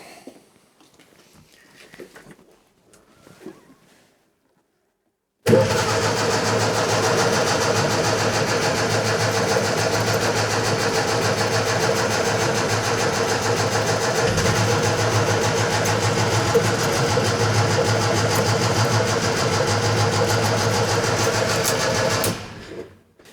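A Fiat 600 engine cranks steadily for roughly eighteen seconds without catching after fuel was poured down the carburettor. The whirring is loud, close and continuous, then stops abruptly.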